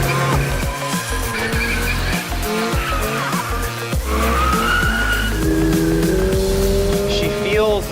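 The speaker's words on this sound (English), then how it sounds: "now let's see if we can't drift this thing a little bit" A 2022 Subaru BRZ on sport tires drifts, its engine revving hard while tires squeal and skid in long sliding bursts, close and loud throughout, with speech-like voices mixed in.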